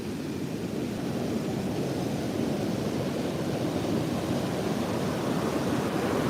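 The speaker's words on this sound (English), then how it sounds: "These waves are enormous." Huge ocean waves break and crash in warm waters, a dense continuous roar of surf mixed with wind buffeting the microphone, loud and sustained without any voices.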